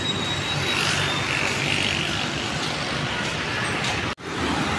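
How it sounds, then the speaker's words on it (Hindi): Busy road traffic in Karachi makes a continuous broadband roar of passing engines and tyres, loud and steady throughout, with a momentary dropout near the end. "देखो कितनी ट्रैफिक है रोड पे"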